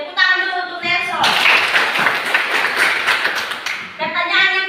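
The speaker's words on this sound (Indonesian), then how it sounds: "Tepuk tangan dulu untuk Nelson." A classroom of children breaks into clapping for a classmate, a burst of dense applause lasting a few seconds between stretches of an adult speaking.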